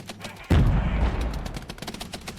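Massed musket volley from troops in the real-time battle game Regiments: one sudden heavy blast of overlapping shots that rolls and decays over about two seconds, with scattered crackling shots afterward.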